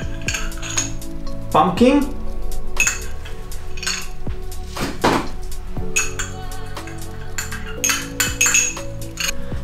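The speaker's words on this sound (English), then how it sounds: "So we're gonna start to put the ice" Ice cubes clink and knock into a cocktail mixing glass in a series of sharp, bright hits spread unevenly, with a brief word spoken near the start.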